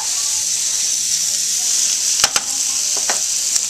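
Andouille sausage and onions sizzle loudly in a pan in a restaurant kitchen making jambalaya, a constant close frying hiss broken by a few sharp clicks and scrapes of tongs flipping the pieces.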